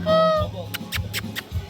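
A turkey calling at a farm house restaurant, a short honking gobble up close followed by quieter clucking bird sounds and scattered rustling.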